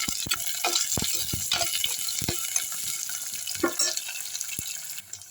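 Anchovies sauté with onions in a pan with a soft, watery sizzle, and several distinct knocks and scrapes come as they are stirred.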